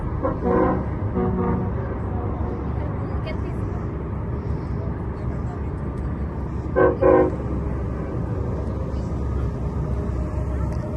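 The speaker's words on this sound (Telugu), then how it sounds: "అలాగే లోకల్ ట్రైన్స్." A local train passes through a downtown area among tall office buildings, sounding a couple of short horn toots near the start and again midway over a steady rumble of city and rail noise.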